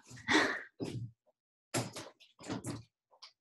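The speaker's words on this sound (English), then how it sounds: "He's knocking on the door and now banging on it." A young child knocking and then banging on a closed bedroom door from the other side, heard as several separate bursts of thuds with quiet gaps between them, fairly close and fairly loud.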